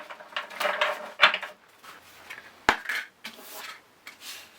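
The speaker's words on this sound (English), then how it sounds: "So we're going to shuffle these cards" A Green Witch Oracle deck of cards is shuffled by hand in quiet, uneven bursts of riffling and tapping, with sharp clicks as the cards knock together.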